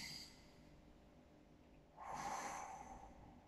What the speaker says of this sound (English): Let's try a couple of deep breaths.